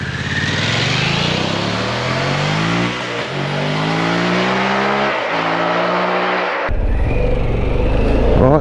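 Harley-Davidson Pan America Special motorcycle accelerating hard on a dual carriageway, a loud close engine climbing through the revs with rising pitch, brief dips at gear changes, then wind roar taking over near the end.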